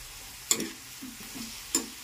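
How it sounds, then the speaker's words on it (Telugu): Onions fry with green chillies and curry leaves in a pan, a soft steady sizzle punctuated by a few sharp clinks and scrapes of stirring, close and quiet. "ఉల్లి బాగా వేగాలి."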